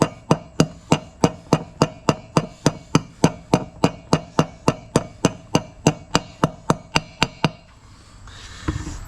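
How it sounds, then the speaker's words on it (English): Steady run of about two dozen sharp metal hammer blows drives trailer wheel bearings into place, evenly spaced and close up, then stops abruptly, leaving a brief quiet stretch with faint rustling. "you can either press these in, hammer them in, whatever. I've always hammered them in."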